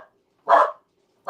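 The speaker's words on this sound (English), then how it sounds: "Whose dog is that?" A dog barks twice, sharp and fairly close, with a short gap between the barks and no voices around them.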